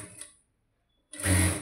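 A sewing machine stitches neck piping with a short whirring burst, then pauses briefly before a louder, steady run of rapid stitching close by.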